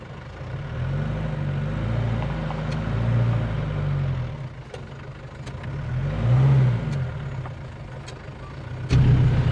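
A taxi engine revs hard as the car pulls away in first gear, rising and falling in loud surges with a brief dip before a final burst; no talking.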